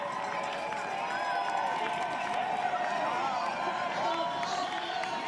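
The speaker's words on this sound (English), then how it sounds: "You can hear the crowd as she makes her way to the finish line." Spectators cheer along the finishing stretch of the New York Mini 10K as the leading woman approaches the line, a steady distant crowd roar with scattered claps and whistles beneath it.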